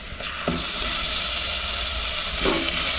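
Ginger-garlic paste drops into hot oil for tempering and sizzles loudly and steadily for a few seconds. The hissing is close, with brief stirring clinks and no talk.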